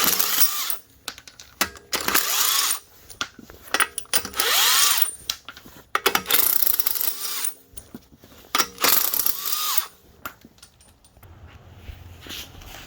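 A power tool, likely an impact gun, works in repeated bursts while the wheels are taken off a 2012 Dodge Charger during rack and pinion removal. The bursts are loud, close and separated by short pauses, with occasional metallic clinks between them.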